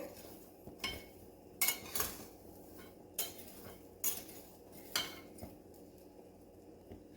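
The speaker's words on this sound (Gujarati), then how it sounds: "હવે સિંગ શેકાવા માંડી છે એટલે ગેસની ફ્લેમ સ્લો કરી દઈશું." Peanuts roasting in salt in a pan scrape and clink quietly as they are stirred, a soft rhythmic series of gritty strokes repeating about once a second.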